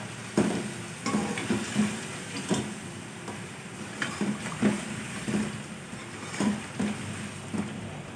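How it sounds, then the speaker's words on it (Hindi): Mutton paya trotters are sautéed in oil, with a soft sizzle under repeated scraping and stirring knocks of a spoon against the pot, rhythmic and fairly close. "अब इसको अच्छे से भुनाई करते हैं"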